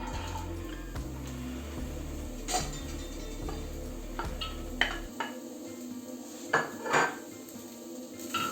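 Carrots are stirred in hot oil in a pan: metal utensil clinks and scrapes ring out in a few sharp bursts over a faint sizzle and a low background hum, with no speech.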